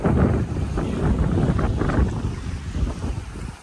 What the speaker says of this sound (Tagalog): Medyo malakas yung hangin, so we cannot fly our drone